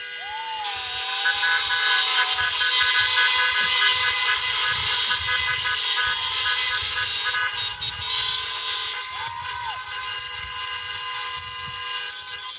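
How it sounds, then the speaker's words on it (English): Car horns honk at an outdoor school commencement, several blaring and overlapping with longer blasts and a few rising toots over a steady hum, loud and sustained throughout. "I encourage everyone present to honk your horns loudly so that our friends in China know how much we miss them"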